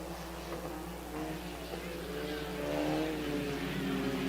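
Stock cars and sport compacts race in a feature main event at Park Jefferson Speedway, engines droning and revving steadily at middle distance, rising slightly as a pack draws nearer.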